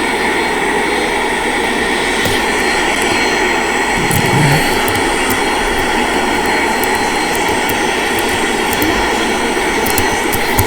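Boeing 747 jet airliner in flight, heard as a loud, steady cabin roar of engine and airflow noise that stays constant throughout with no talking.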